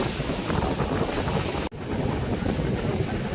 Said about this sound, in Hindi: पानी का आवाज़ आप लोग सुन ही सकते हैं, कितना तेज पानी का आवाज़ होगा।